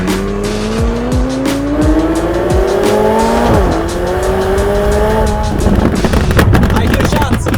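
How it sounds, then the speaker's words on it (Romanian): A McLaren tuned to 900 hp revs hard with a rising engine scream, its pops-and-bangs exhaust firing sharp cracks and bursts between pulls, loud and close. "I-am pus și soft care dă flăcări, pops and bangs care sunt foarte brutale"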